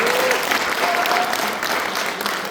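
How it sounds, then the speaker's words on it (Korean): An audience at a political lecture applauds together, dense steady clapping that stays loud throughout, with a faint voice briefly audible near the start. "박수 한번 주세요"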